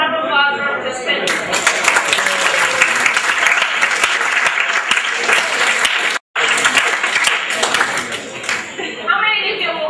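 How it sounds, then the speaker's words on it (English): Conference audience applauding participants of a group demonstration, dense loud clapping that holds steady for most of the stretch, cuts out briefly, then resumes before tapering off. "Round of applause for our participants."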